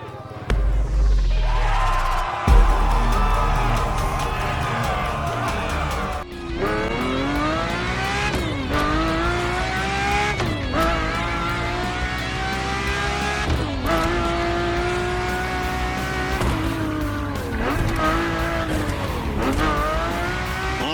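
Ferrari Enzo engine in The Crew Motorfest racing game, a loud, sustained high-revving roar climbing through repeated gear shifts, with rising pitch sweeps and brief drops between gears, heard up close throughout.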